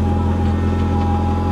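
A 2004 Renault Clio engine idling steadily just after a cold start, a loud, even low hum held close by with no break in the sound.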